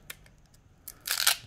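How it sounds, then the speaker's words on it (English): Scissors snip and crinkle through a trading card blister pack, with a few faint taps followed by a louder burst of plastic cutting, close by. "If not, use my scissors."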